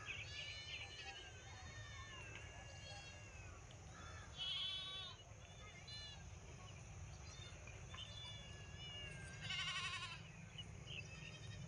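Goats on a village farm bleat in several short, wavering calls, some closer and louder, over steady outdoor rumble, with a few bird chirps mixed in.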